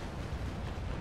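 A ship's cannon fires in the Naval Action naval combat game, a dense, sustained low rumble of broadside blast and roar filling the whole moment with no talk over it.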